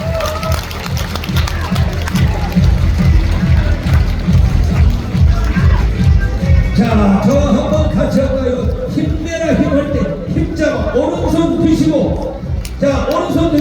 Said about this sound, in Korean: 관중 여러분, 감축과 박수 한번 주시고.